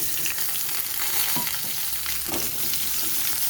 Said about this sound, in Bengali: ফোড়নের সাথে কিছুক্ষণ ভেজে নেব